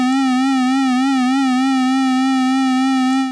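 Steady chiptune synth tone from the miniBit 8-bit synth on iPad, its pitch wobbling up and down in a fast, even LFO vibrato, loud and alone, held throughout before cutting off.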